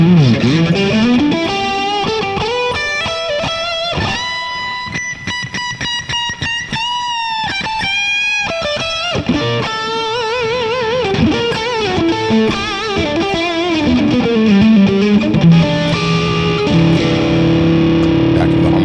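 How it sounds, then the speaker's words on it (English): Electric Stratocaster-style guitar on a split humbucker plus middle pickup setting, played as a continuous melodic run of notes and chords through effects with light distortion, steady and fairly loud throughout with no talking. "So this is a split humbucker and the middle pickup."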